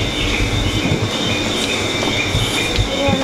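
A train in Japan rumbles along loudly as it nears a stop, with metallic wheel squeals and faint clacking, a steady close rolling roar with no voices.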